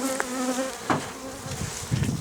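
Steady droning buzz of many honey bees at a hive, close and continuous, with a few louder passes of individual bees.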